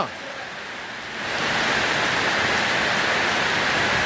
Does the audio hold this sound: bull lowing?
no